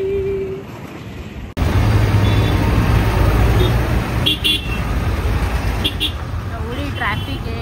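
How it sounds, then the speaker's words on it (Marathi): Busy city road traffic on the way to a mall, with a steady loud roar of engines and passing vehicles, a car horn tooting near the end, and voices talking over it. "एवढी ट्रॅफिक आहे यार"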